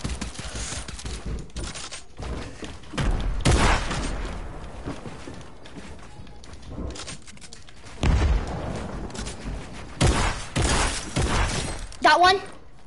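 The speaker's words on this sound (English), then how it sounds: "Grenade launcher." In a video game shootout, a grenade launcher fires and its rounds explode, giving several loud booming blasts and shattering bursts spread unevenly across the stretch, while a player talks between them.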